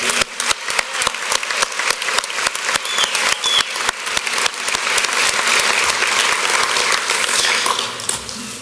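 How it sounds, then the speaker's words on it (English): An audience gives applause at a live sports show event, starting as sharp separate claps that quickly swell into dense, continuous clapping from many people, loud and sustained to the end. "Please give a round of applause to my friends, family, and especially my mom and dad."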